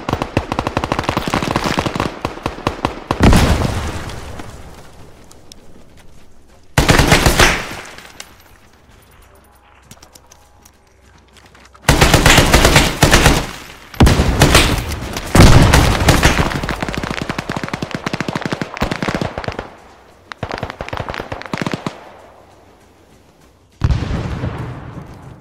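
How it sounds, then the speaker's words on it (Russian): Automatic gunfire in the video game Arma 3 during a desert battle, with loud sustained bursts of rapid shots separated by quieter gaps, some volleys long and dense, others short, heard alongside occasional speech. "Плюс еще друг по другу стреляют они."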